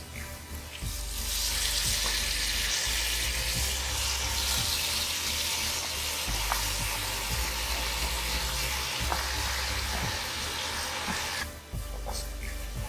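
Radish (mooli) leaves fry in a pan over a medium flame, a steady loud sizzle with crackling that holds throughout, broken by occasional small clicks and a brief dip near the end.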